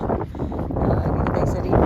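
Outdoor wind buffets the microphone at a boat landing where passengers wait. A loud, continuous rumble runs throughout, apparently with voices mixed in.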